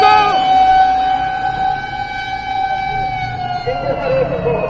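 A Japanese fire engine siren wails loud and close in a city street, its steady, drawn-out tone holding over traffic rumble for several seconds, then dipping briefly before carrying on.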